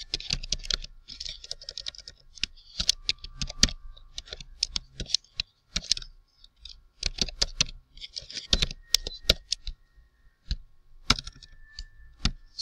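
Steady typing on a computer keyboard while writing CSS, with rapid clustered keystrokes, brief pauses and sharper key clicks, close and clear with no talking.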